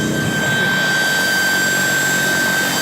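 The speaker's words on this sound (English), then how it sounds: "The helicopter is actually handling really well." A remote-controlled camera helicopter flies close by during filming of a Nissan Sentra SE-R drift RC car, giving a steady, loud whirring drone with a high constant whine that holds through the whole stretch.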